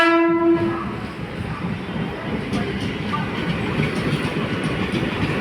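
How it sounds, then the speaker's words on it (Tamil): A passenger train on the Central to Arakkonam line passes at Sevvapettai, opening with a steady horn blast over the first half second, then a continuous loud rumble and rattle of wagons rolling by close at hand. "இந்த ட்ரெயின் அரக்கோணம் டு சென்ட்ரல் செல்கின்ற ட்ரெயின்."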